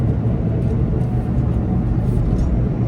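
Suzuki Jimny driving along a road, heard from inside the cabin as a steady low engine and road rumble with constant level throughout and no talk.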